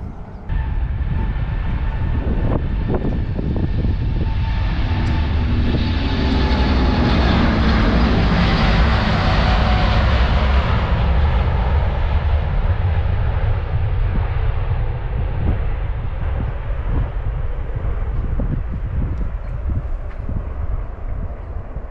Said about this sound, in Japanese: こうピュンピュン飛行機飛んでると